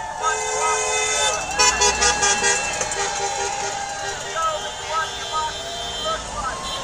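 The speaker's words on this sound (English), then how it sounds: "A lot of people are honking their horns in support." Car horns honk repeatedly in passing toots and longer blasts from traffic cruising past a street protest at the Kansas Capitol in Topeka, over a steady crowd chant and voices throughout.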